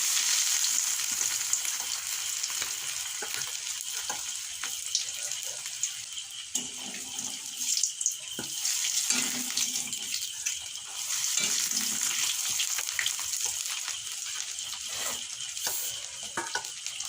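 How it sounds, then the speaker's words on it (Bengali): Egg devils frying one at a time in hot oil, a loud, continuous close sizzle with occasional bursts and spatters rising and falling over about seventeen seconds, no talking. "আমার তেলটা গরম হয়ে গিয়েছে, এবার আমি একটা একটা করে ভেজে নেব।"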